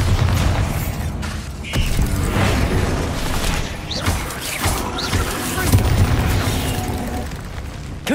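Bombarda explosion spell going off in Hogwarts Legacy on PS5: loud booming blasts and crashing debris in a busy combat mix, with several sharp bursts and mechanical clatter over a steady low rumble.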